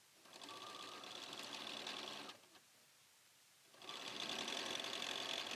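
A sewing machine stitches down a fabric edge in a fast, steady whir, runs for about two seconds, pauses briefly, then starts again, close and clear with no voices.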